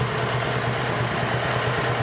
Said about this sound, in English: got the tractor out here running